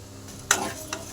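Urad dal frying in oil gives a faint, soft sizzle broken by two brief stirring scrapes, one sharper than the other.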